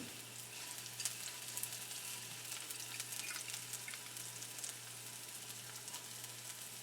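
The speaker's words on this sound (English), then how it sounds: "So our julienne onions go into the pan" Julienned onions and ginger sautéing in a pan give off a faint, even sizzle with fine crackles, steady and unbroken, with a low hum beneath and no talk.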